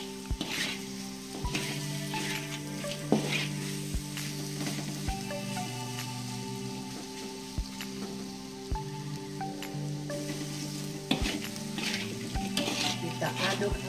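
Tempeh and salted squid stir-fried in sweet soy sauce in a pan, a close, steady sizzle broken by repeated scraping and clanks of a spatula against metal, alone without speech.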